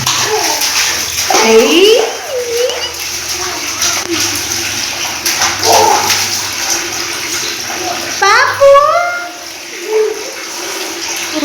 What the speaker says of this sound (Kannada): ಅದರಲ್ಲಿ ಬಕೆಟಲ್ಲಿ ನೀರು ಬಿಟ್ಕೊಂಡು ಆಟ ಆಡ್ತಿರ್ತಾರೆ